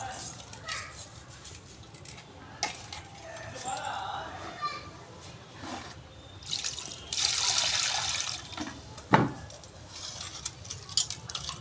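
Water splashing and sloshing as fish is rinsed by hand in a container, with intermittent trickles and clatters, fairly close and moderately quiet.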